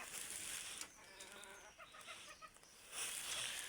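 A hen gives a few soft, short clucks close by as it goes to settle on its eggs in a village yard, against a faint hiss of background noise.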